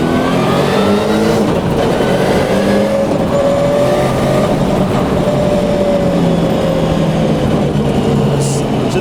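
A Subaru Impreza WRC rally car driven on a public road makes a third-gear run, its loud engine note sweeping up and down in pitch for the whole stretch with no voices over it.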